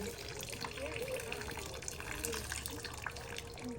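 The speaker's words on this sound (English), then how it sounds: "we should just pull that down and let it just drain out" Coolant drains from the water pump of a 2015 VW Jetta 1.8 in a quiet, continuous trickling stream with faint bubbling, heard close and alone, without talk.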